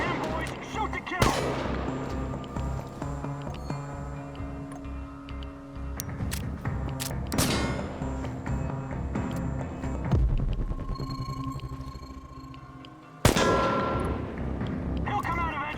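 Gunfire in the video game Chernobylite: several sharp, loud shots crack out at intervals over a layered game soundtrack with sustained tones and shouting voices, the final burst arriving near the end.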